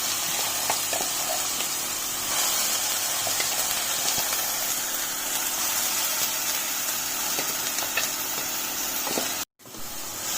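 Onion paste sautéing in cold-pressed safflower oil in a hot pan makes a steady close sizzle and hiss with scattered small pops, cutting out abruptly for a moment near the end.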